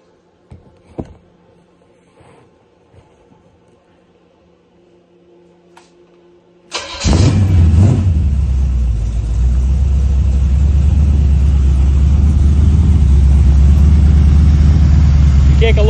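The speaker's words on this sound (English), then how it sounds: "Let me go ahead and fire this thing up so you can hear it." A 383 small block Chevy V8 cranks and catches at once, then settles into a loud, steady, rumbling idle after a few quiet seconds of faint clicks and shuffling.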